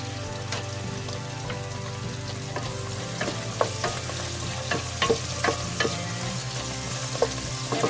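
Pork fat fries in a pan for menudo, rendering its oil with a steady close sizzle and scattered sharp pops and spatters, with no talking.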